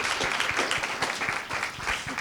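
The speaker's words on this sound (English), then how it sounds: "let's go ahead and have a round of applause for our panel" An audience at a Chattanooga real estate event claps for its panel, a dense run of distinct handclaps at close-to-moderate distance, filling the whole stretch.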